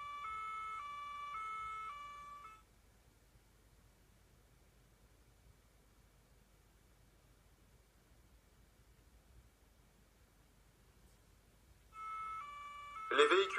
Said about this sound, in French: Les véhicules des pompiers, des forces de l'ordre, des services du SAMU sont des véhicules d'intervention urgente